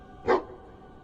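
A single short bark from a dog in a fantasy life-simulation game, clear and fairly close against a quiet background, with no talk.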